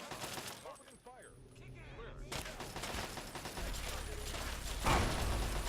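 Rapid gunfire bursts from Fallout 3 combat, loud and dense with mechanical clatter, continuing without pause and mixed with someone talking over it.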